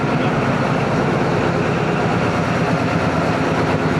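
A Chinese ZCU20 series diesel locomotive, number 6401, rated at 2000 horsepower, at a railway station produces a steady, loud, continuous rumble with a dense mechanical roar and no break throughout.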